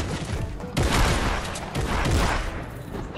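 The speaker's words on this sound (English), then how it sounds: "Is that your airstrike?" Airstrike blasts in Fortnite land as loud, close, rumbling bursts of explosions and rapid crackling booms, two heavy surges filling the space without talk.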